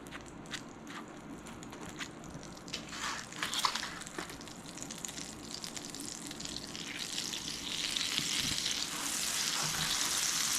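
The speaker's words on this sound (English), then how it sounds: "I'm gonna drop some butter into my skillet." Butter sizzles and fries in a hot cast iron skillet on a stove, a steady crackling hiss that grows louder and denser toward the end, with a few light scraping and tapping sounds.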